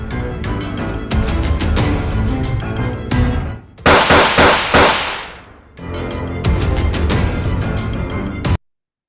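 Edited gunfire sound effects for a movie-style scene, long bursts of rapid sharp shots broken by a louder crackling blast and a short pause, ending abruptly in silence.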